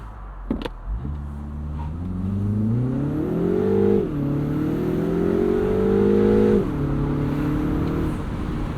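A 2025 Mini Cooper S Convertible with its turbo engine launches hard on an empty highway, the engine note climbing loudly through rising revs with two clear gear shifts, heard from inside the cabin with no talking.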